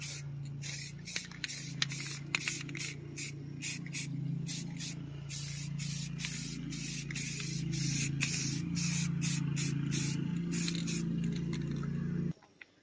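Aerosol spray paint laid on heavily as a final coat over brake calipers, a steady close hiss with rhythmic pulsing bursts running nearly continuously for about twelve seconds before cutting off.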